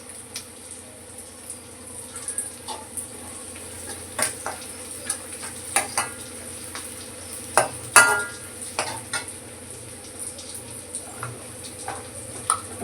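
Onions sautéing in a pan for a fish curry, a soft steady sizzle broken by repeated clinks and scrapes of a spoon against the pan, with a sharper knock near the middle, no speech.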